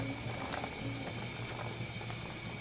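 Stock bubbling at a steady boil in a cooking pot for beef parda pulao, a continuous dense simmering patter with occasional small pops, close and even throughout.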